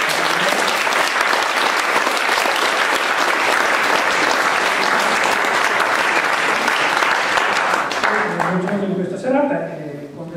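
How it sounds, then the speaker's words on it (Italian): An audience at a poetry festival applauds steadily and loudly for several seconds, the clapping thinning out near the end as a voice starts to speak over it. "Vi farei subito un applauso a Michele Ponte."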